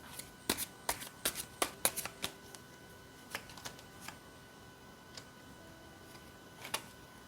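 Tarot cards being shuffled and handled during a reading, a quick run of crisp papery snaps and ticks clustered early, then sparser single flicks spaced out toward the end, close and fairly soft with no talking.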